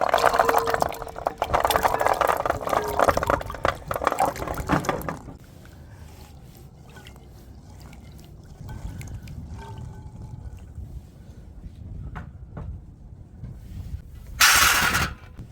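Fresh gooseberries are rinsed under a running kitchen tap, a steady close splash of pouring water for about five seconds, then quieter dribbles and handling, with a brief loud gush of water near the end.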